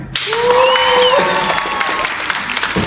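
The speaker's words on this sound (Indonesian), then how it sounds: "tepuk tangan dulu dong" A podcast audience applauds loudly, steady clapping filling the whole stretch, with a brief whistle or cheer rising over it near the start.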